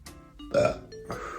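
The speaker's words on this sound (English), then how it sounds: "I'm about to do a burp." A single short, loud belch from a person bursts out mid-clip, framed by faint breathy vocal sounds before and after.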